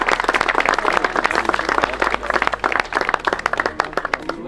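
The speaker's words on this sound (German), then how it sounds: "Ein riesen Applaus für Bambi Racing" Crowd applause for a kart racing team at a turbo-kart race in Wohlen, dense steady clapping from many hands filling the whole stretch, with a few scattered voices underneath.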